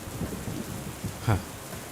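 Steady rain hisses across the whole stretch, with a soft low rumble of thunder and a brief sharper crackle partway through, distant and moderately quiet, no voices.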